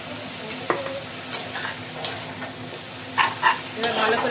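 Red amaranth greens sizzle in a pan while a spatula stirs them, giving a steady close fry hiss with a few distinct scraping strokes.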